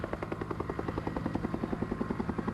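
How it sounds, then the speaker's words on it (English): A military helicopter at an air show thumps with fast, steady rotor beats that fill the clip at a moderate distance, with no talk over it. "As the helicopter backs slowly out of the area, then it will turn and be going back over to its landing space."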